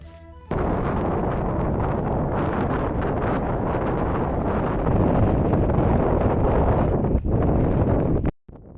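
Loud, steady wind gusts roar across the microphone on an Irish lakeside hiking trail, a dense rushing rumble that starts abruptly and cuts off near the end, with no voices.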